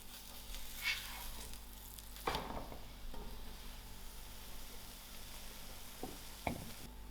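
Quiet, steady sizzle of a cauliflower-stuffed paratha cooking in oil and butter on a pan, with a couple of soft knocks and scrapes from turning it.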